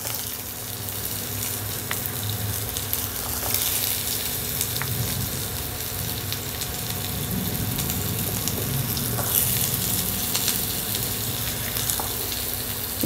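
Thinly cut pumpkin sizzles steadily in a hot pan with oil, a continuous crackling hiss with faint stirring scrapes and no talking.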